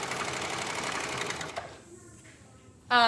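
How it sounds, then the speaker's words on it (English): A serger stitches elastic onto a swimsuit with a fast, steady mechanical whir for about a second and a half, then stops, leaving quiet room noise and a brief voice at the end. "I'll be putting the elastic on here with the serger."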